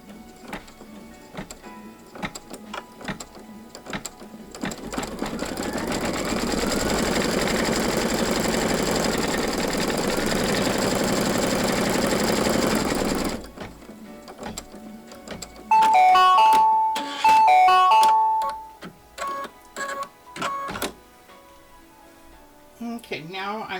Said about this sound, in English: I've got my pink thread into my machine, so let's stitch our placement stitch